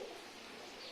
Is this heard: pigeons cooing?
yes